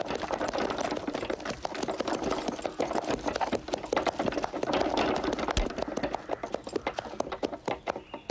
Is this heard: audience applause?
no